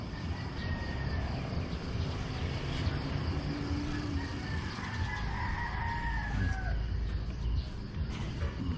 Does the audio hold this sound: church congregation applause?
no